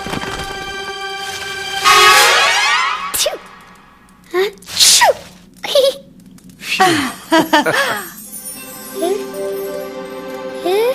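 In a French-dubbed Rudolph the Red-Nosed Reindeer film, a single loud sneeze stands out among playful bursts of giggling, jingly tinkling and animated cartoon sound effects.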